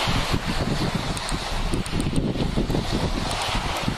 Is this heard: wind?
yes